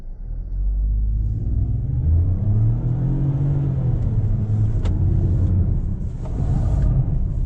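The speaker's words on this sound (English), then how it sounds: "I'm going to put the car into sport" A Proton X50 SUV in sport mode accelerates through a slalom, its engine rumbling loudly from inside the cabin, with the pitch climbing and shifting through gear changes and steady road noise beneath.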